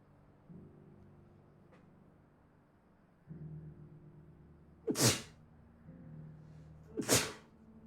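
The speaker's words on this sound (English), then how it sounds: "I gotta sneeze." Two sharp, loud sneezes burst out a couple of seconds apart over quiet background game music, each a sudden explosive blast that fades quickly.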